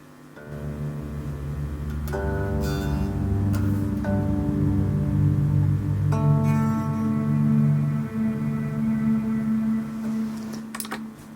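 Bass guitar through a particle verb pedal with the mix set fully up, sustained swelling notes wrapped in a dense shimmering wash, steady and moderately loud with no voices.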